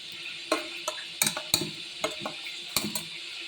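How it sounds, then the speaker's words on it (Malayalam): Snack mixture stirred in a pan with ghee or coconut oil, sharp spoon scrapes and clinks against the metal repeating irregularly over a soft background hiss. "ഇത് നന്നായിട്ടൊന്ന് ഇളക്കി കൊടുക്കണം"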